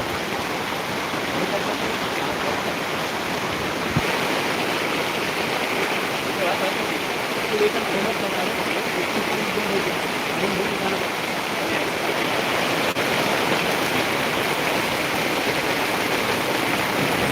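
Heavy rain pours in a dense, constant roar, with water rushing close by and no break throughout.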